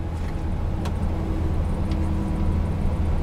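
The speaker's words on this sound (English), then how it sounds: "So I'm just going to use my retarder now because we're going down another hill." A Scania S730 8x4 truck descending a hill on its retarder, a loud, steady low drone with road rumble, heard from inside the cab with no talking.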